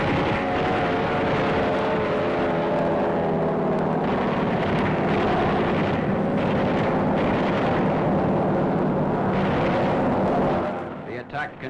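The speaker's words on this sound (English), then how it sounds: "Japanese aircraft factories are struck heavily." Heavy bombing of Japanese aircraft factories, a dense continuous roar of rumbling explosions and engine drone that stays loud throughout before cutting out at the end.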